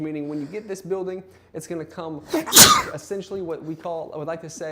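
A single sharp, close sneeze bursts out in the middle of a man's steady speech about an insulated, climate-controlled building, and his talking resumes right after it.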